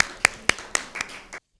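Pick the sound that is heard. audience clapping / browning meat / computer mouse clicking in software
audience clapping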